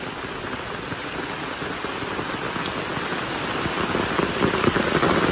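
Heavy rain pours over a cold campsite on Mount Sumbing, a dense, constant hiss of drops drumming on tent and surfaces, close and fairly loud, building slightly toward the end with no talking.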